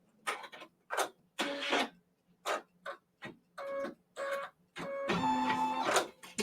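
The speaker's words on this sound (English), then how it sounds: "my machine says it takes this 2 minutes to stitch out" An embroidery machine stitching a quilt block at about 700 stitches per minute, giving bursts of rapid mechanical chattering separated by short pauses, ending in a longer continuous run, close and fairly loud with no talking.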